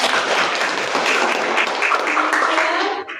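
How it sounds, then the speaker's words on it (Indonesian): Applause from a class at an SMK vocational school in Ende, thanking a student who led prayer: dense, steady clapping from a room of people, loud and close, fading out at the very end. "berikan tepuk tangan kita"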